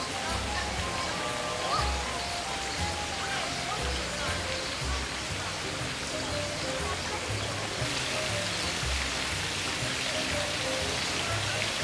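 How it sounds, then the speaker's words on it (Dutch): Steady rain falls in the walled old city of Mdina, Malta, a dense even hiss of drops on stone streets and roofs that continues throughout at a close, moderate level. "En het regent nog steeds."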